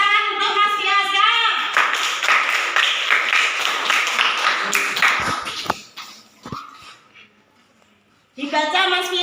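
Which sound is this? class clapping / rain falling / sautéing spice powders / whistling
class clapping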